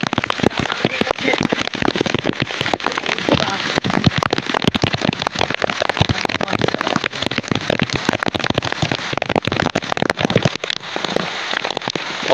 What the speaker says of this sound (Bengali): কত বৃষ্টি হচ্ছে আমাদের দিকে আজকে, প্রচন্ড বৃষ্টি হচ্ছে